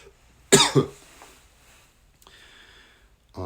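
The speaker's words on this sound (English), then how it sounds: "I got to tickle my throat, so if I cough, pardon me" A single close, sharp cough burst with a quick second hack, then quiet room tone and a faint click.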